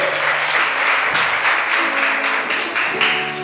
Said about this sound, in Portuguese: Se você entendeu, diga amém e aplauda o Senhor.